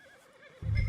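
A horse in the video game Red Dead Redemption 2 gives a single short, loud whinny that bursts in near the end of the clip after a quiet start.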